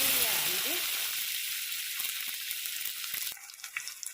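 Onion frying in oil with green chili and powdered masala, a loud hissing sizzle that fades toward the end as a few clinks and stirring sounds take over, with a voice briefly at the start.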